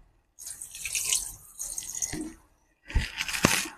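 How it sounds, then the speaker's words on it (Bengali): Water left from rinsing spices poured into a chicken handi in three close splashing bursts, a clear trickling pour with short pauses between. "মশলা ধোয়া জলটা আমি এর মধ্যে দিয়ে দেবো।"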